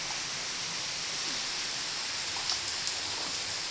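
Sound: rain falling

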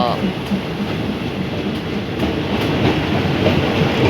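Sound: diesel railcar train 262 near Hua Hin station

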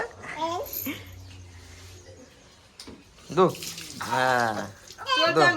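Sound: water splashing while washing bicycle

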